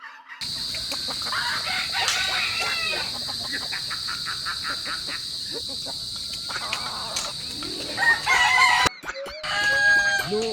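Chickens cluck and a rooster crows repeatedly, fairly close, over a steady buzz of insects, with occasional voices in the background.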